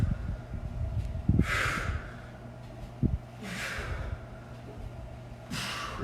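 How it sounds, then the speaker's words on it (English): Heavy, forceful exhales during a workout, three distinct breathy bursts spaced about two seconds apart, close and loud with no talking. "Lots of exhales."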